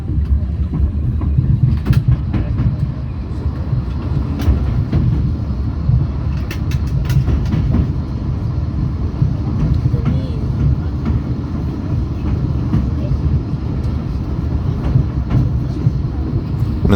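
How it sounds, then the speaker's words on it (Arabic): Inside a Spanish Talgo train under way, a loud continuous low rumble of running gear with occasional sharp clicks and knocks from the rails, smooth and steady throughout. "القطر ده كان من أقل القطورة اللي ركبتها اللي فيها هز ورجرجة في الطريق"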